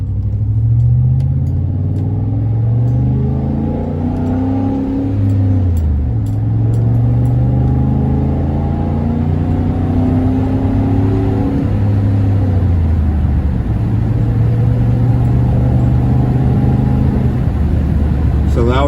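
A 2010 Chevy Avalanche LT in manual mode pulls through its gears from inside the cab, engine drone rising and dropping in pitch with each shift, steady and close, with some talking.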